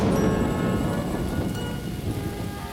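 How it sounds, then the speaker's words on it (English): Steady heavy rain pours continuously in a cartoon scene, with a low rumble of thunder rolling underneath throughout, dense and close with no voices. "I mean, hey, it could be raining."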